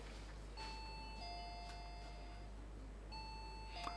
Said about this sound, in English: Let me hear the bell from Central University.